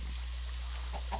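Minecraft chickens on a Skyblock island cluck in a couple of short, soft calls near the end over a quiet, constant low hum.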